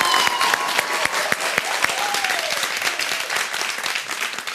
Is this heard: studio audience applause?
yes